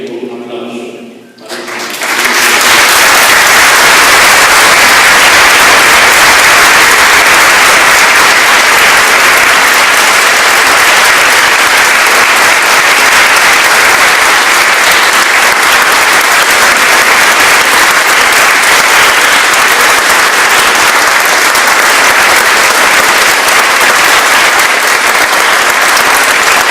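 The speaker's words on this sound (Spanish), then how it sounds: "rendir un pequeñísimo homenaje a doña Raquel con un aplauso" A large audience gives a sustained ovation as a tribute at a memorial homage, dense, even clapping that swells in after a brief pause and holds steady, loud and close, for over twenty seconds.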